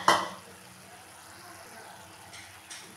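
A spoon stirring fried oats and boiled vegetables in a pan while making oats upma, a single clear scrape at the start, then faint quiet mixing sounds and a brief clink near the end.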